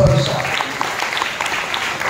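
A church congregation claps in praise during a New Year's Eve watch night service, a dense, short burst of hands mixed with a voice.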